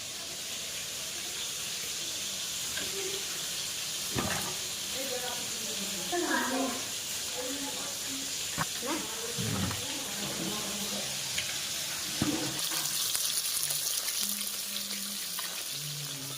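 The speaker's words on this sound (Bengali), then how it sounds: "মাছটা আমার প্রায় ভাজা ভাজা হয়ে এসছে" Steady hissing sizzle of fish frying in hot oil, continuous and close, with scattered clinks and faint movement sounds over it.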